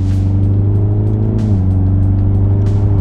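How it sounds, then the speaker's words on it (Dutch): Mini Clubman John Cooper Works idling with a deep, steady exhaust burble, the engine note dipping slightly midway, heard up close with no talking. "En je hoort natuurlijk het leuke geroffel uit die uitlaat."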